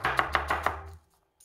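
A knife chops an onion on a board with four quick, evenly spaced thuds close by, then the cutting stops, leaving near silence apart from a faint tap at the end.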